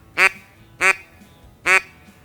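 A duck call blown while forming the word 'quit' gives three short, sharp quacks spaced evenly about three-quarters of a second apart, close and clear, with no grunting voice behind them.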